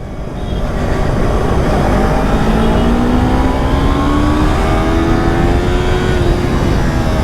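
A twin-cylinder sport motorcycle, a Yamaha YZF-R3, accelerates hard under full throttle, its loud engine note climbing steadily through the gear without pause.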